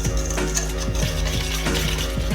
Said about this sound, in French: Vous prenez votre fouet et vous fouettez pour bien incorporer tous les ingrédients secs.